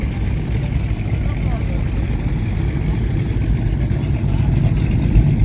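Motorboats lined up for a run on the water near Bobcaygeon, Canada, give a steady, loud engine roar that holds constant and close throughout, with no pauses and no talking.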